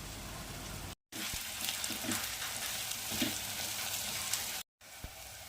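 Chopped onions frying in a pan, a steady close sizzle with occasional stirring scrapes, broken by two brief silent gaps, no voices.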